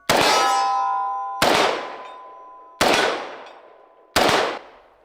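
Four sharp metallic clangs ring out at even intervals, each hit leaving a bright, decaying ring as bullets strike a steel target about 35 metres away.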